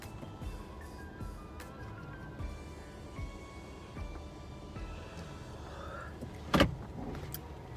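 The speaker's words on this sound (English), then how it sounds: "I'm gonna drive to work" A car being driven to work on a cold day, heard from inside the cabin as a steady low road and engine rumble, with a sharp brief click or thump near the end and no talk.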